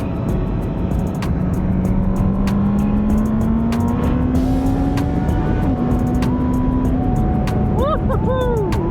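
A motorcycle pulls away and accelerates on a road beside the Danube in Austria, its engine note climbing steadily through the gears as it gains speed, loud and close, with a steady rush of wind underneath.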